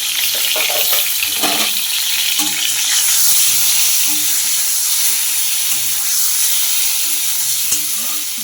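Eggplant pieces frying in oil in a pan: a loud, dense, close sizzle holds steady throughout, with a few faint stirring knocks and no voice.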